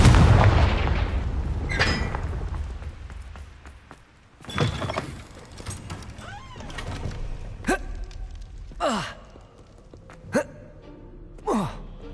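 In the Hogwarts Legacy video game, the Confringo explosive spell goes off with a booming blast at the start, followed by further sharp bursts and whooshing impacts scattered through the fight, loud against quieter gaps.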